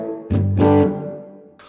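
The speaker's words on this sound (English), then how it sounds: "here's a Fender Deluxe reverb that's really muffled with heaps of reverb" Electric guitar played through a Strymon Iridium on a Fender Deluxe Reverb amp model, tone muffled and dark, drenched in heavy reverb; two short strummed chords ring out and trail off, close and moderately loud, with no talking.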